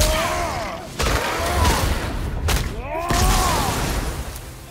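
Explosions from combat in the God of War video game: loud broadband booms and impacts amid battle effects and music, several bursts across the passage.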